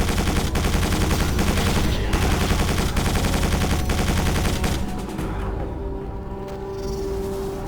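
Hover tank weapons fire in the video game Quake 4: a loud, dense, continuous barrage of rapid shots and blasts that eases into a lower, steadier rumble near the end.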